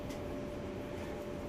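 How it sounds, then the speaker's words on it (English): A washer, dryer and dehumidifier running together indoors make a steady, quiet, even drone that holds unchanged in the background, with no talking. "The washer and dryer and dehumidifier is running."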